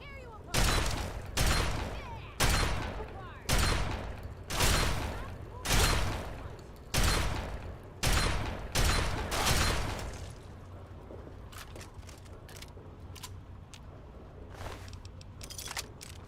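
Video game gunfire from a shotgun and an assault rifle: about ten loud, booming blasts roughly a second apart, followed by quieter clicks, rattles and faint background hum as the firing stops.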